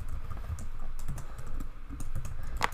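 Fingers type on a computer keyboard while entering audiobook details for an online store, a steady close run of quick clicking keystrokes with no talk.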